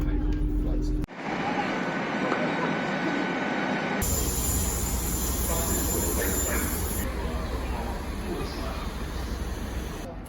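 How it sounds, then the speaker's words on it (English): A train leaves the platform on a trip from Slough toward Reading and Bath. Broadband rail rumble and hiss run throughout and grow louder partway through, with voices talking over it. "Is that the train going?"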